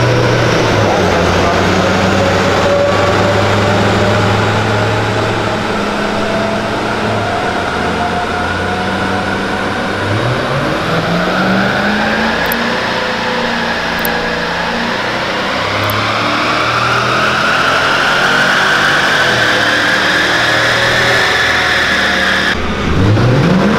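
A Mercedes CL 500 AMG engine revs hard and loud, rising and falling through several long pulls with a steady roar throughout, close by and with no talking over it.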